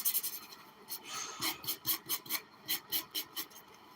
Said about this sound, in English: All right, so we're sanding all of that.